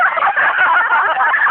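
A rooster crows loudly and continuously for a brief burst, sounding thin and tinny, with no talk over it.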